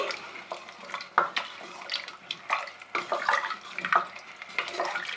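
Spices are stirred into cooked dal for sambar with a spoon in a pot, producing a steady series of wet scraping and sloshing strokes, close and moderately loud, with no talk.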